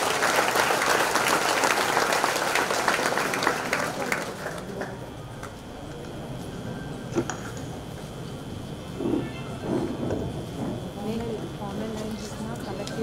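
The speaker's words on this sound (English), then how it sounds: "Give them a huge round of applause." Audience applause for toppers at a college orientation programme, a dense, loud burst of clapping over the first few seconds that thins into scattered claps and murmuring crowd noise.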